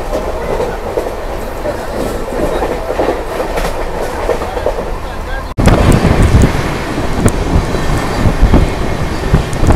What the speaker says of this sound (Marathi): वापीमधून निघाल्यानंतर ट्रेनने सुसाट वेग धारण केलेला आहे.